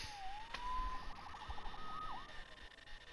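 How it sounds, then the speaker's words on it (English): A police siren wails faintly in the distance in the video game Marvel's Spider-Man, a short rising tone followed by a rapid yelping warble, quiet beneath low ambient city noise. "Saved by the siren."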